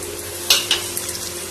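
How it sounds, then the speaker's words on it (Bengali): Chopped ginger, garlic and green chilli hitting hot oil in a pan, with a steady sizzle and a couple of sharp clinks from a spoon or utensil against the pan. "চলুন এটা একটু ভেজে নিই, তারপর আসছি।"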